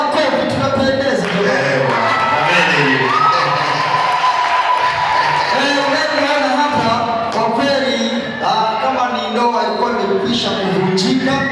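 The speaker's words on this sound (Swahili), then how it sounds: "Makofi na vigelegele yanapopita" A celebrating crowd at a wedding or church-style gathering claps and lets out high trilling ululations. The cheering is loud and continuous, with voices shouting and whooping in a dense, close mix.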